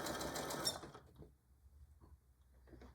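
A sewing machine back-stitches a tool carry bag: a loud burst of dense, rapid stitching for about a second, then silence with only faint small handling knocks and clicks.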